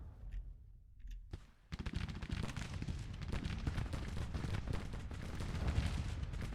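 Dense, continuous battlefield gunfire from the Grand Tactician Civil War strategy game: a massed crackle of musket volleys mixed with heavier artillery booms. It starts suddenly after a brief quieter lead-in and then rolls on loudly without a break.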